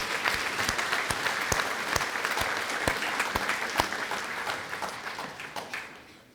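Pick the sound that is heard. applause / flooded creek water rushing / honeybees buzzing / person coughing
applause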